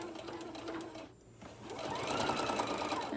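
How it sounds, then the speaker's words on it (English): Sewing machine back stitching a small tote bag seam: a steady close mechanical whir that pauses briefly near the middle, then resumes louder and continues to the end. "I'm going to back stitch"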